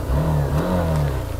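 A Hero Xtreme 160R motorcycle engine revs up loudly and close as the ride begins, a steady mid-pitched drone that climbs and dips briefly before holding at a throaty level.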